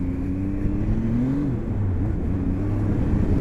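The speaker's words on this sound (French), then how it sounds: "Le bruit du 3 cylindres, c'est quand même sympa." A Zontes 703 F three-cylinder motorcycle engine hums steadily with a low, throaty tone, pitch rising and falling slightly as the throttle shifts; no voices.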